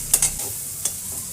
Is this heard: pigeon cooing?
no